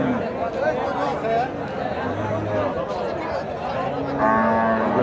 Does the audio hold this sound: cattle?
yes